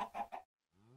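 Three quick clucks from a Minecraft chicken sound close and clear, followed by a brief silence and then a faint rising tone.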